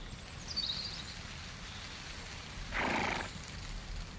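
Przewalski's horse, a rare wild horse: a faint, distant high whinny early on, then a short, louder burst of breathy sound over steady outdoor background noise.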